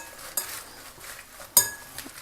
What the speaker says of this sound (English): give it a quick stir, just so all the leaves are coated